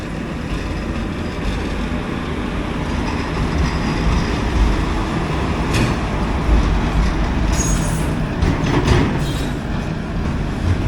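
A freight train of cut-down BOXN wagons rolls past close by, a steady loud rumble with faint clickety-clack and brief metallic squeals near the end.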